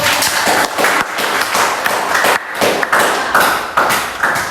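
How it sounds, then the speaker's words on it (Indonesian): Students applaud in a classroom with loud, close clapping in rhythmic bursts. Beats fall roughly every half second and sound like thumps and taps, and no one speaks over them. "Tepuk tangan untuk kalian semua"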